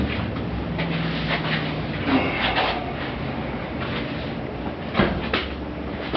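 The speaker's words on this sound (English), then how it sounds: "I'm gonna go out here and grab a door, bring it in, get it situated." A wooden door lifted off its hinges is carried and maneuvered indoors, giving a steady rumbling shuffle with occasional wooden knocks and bumps, near and moderately loud.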